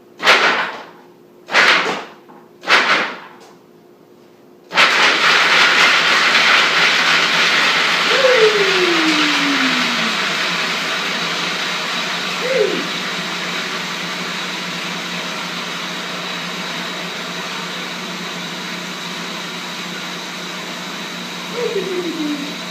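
A food processor pulses a cup of cashews in three short whirring bursts, then runs continuously with a steady loud motor drone.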